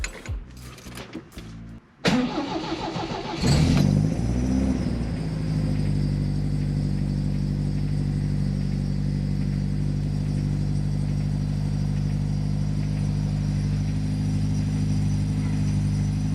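An old car engine cranks with rapid mechanical clatter, sputters, then catches and settles into a steady low idling rumble that continues close by after the gas pedal is pumped a few times.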